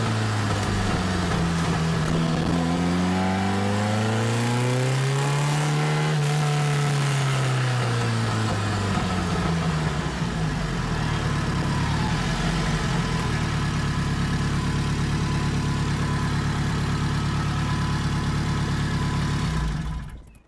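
Ferrari 308 GTBi engine, a blue collector car with fibreglass body, rises in a revving sweep then settles into a steady, close idle that runs continuously until cutting off at the end; no talking.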